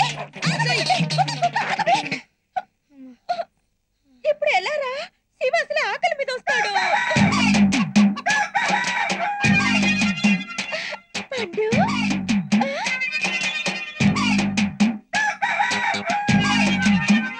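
A rooster crows repeatedly, its drawn-out calls mixed with clucking and other busy background noise in a film scene.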